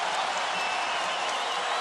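Basketball crowd at a Gonzaga vs BYU college game in 2017 roars and applauds in a dense, continuous wash of cheering and clapping.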